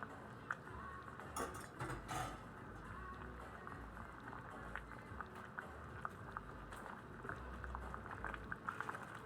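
Pork sinigang soup boiling hard in a covered pot until it overflows, a bubbling rumble with rattling lid clicks and sputters, heard fairly quiet and without talk.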